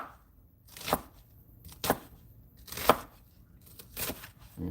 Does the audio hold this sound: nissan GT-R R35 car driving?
no